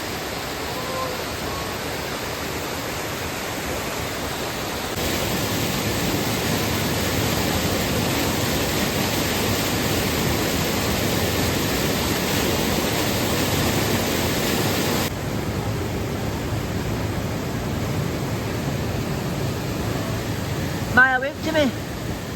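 Falls of Dochart, a waterfall on the river at Killin near Loch Tay in Scotland, gives a steady broadband roar of rushing water that swells partway through and then eases, with a brief voice near the end.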